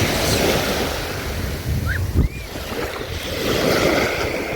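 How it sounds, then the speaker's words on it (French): Steady wash of surf rolling onto the shore with wind buffeting the microphone, broad and continuous, with a brief thump midway. "un peu de mer, un peu de mer"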